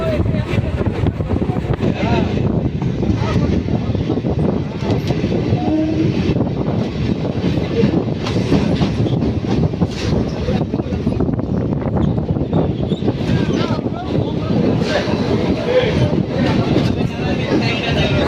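A Kalyani to Budge Budge local train running on the suburban line, heard from inside: a loud, continuous rumble with rattling wheel clatter that never lets up, and voices murmuring underneath.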